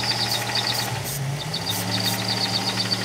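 A Buick Grand National engine with a knocking fault runs steadily near at hand, a continuous droning hum with faint repeated ticking and rattling pulses through it, and no voices.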